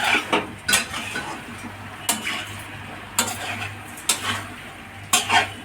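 Green chillies going into a frying pan for a squash, potato and soya chunk curry, with a low sizzle under regular stirring and several sharp clinks of a metal utensil against the pan.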